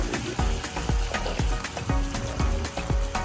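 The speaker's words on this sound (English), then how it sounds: "My green beans still frying over here." Green beans sizzle steadily in a hot pan, with a run of sharp clanks and scrapes as they are stirred and tossed at roughly even intervals, loud and close.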